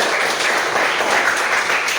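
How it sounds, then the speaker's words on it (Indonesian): A classroom group claps as the last group finishes, producing a dense, even burst of applause that holds steady throughout. "tepuk tangan buat kelompok terakhir"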